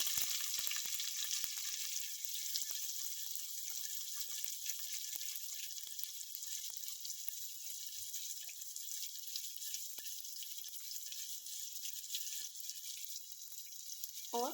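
Onions sizzle and fry steadily in hot oil in a single pot for a simple veg biryani, a continuous bright crackle with a faint watery hiss and occasional stirring, no voices.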